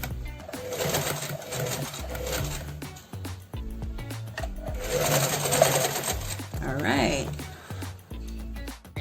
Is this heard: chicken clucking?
no